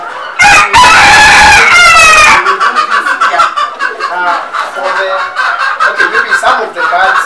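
Caged chickens and a rooster on an ornamental bird farm: a loud close rooster crow opens, followed by dense overlapping clucking and cackling from many birds throughout.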